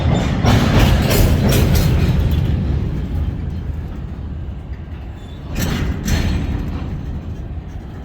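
A Canadian National freight train passes by the Fox River in Green Bay, its heavy rumble swelling and easing with gusts of wind over the line.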